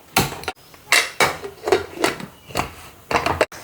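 A lid set down on a pot of curry being cooked with chilli powder, turmeric and salt, giving several sharp metallic clatters and knocks spread over a few seconds, close and fairly loud with no talking.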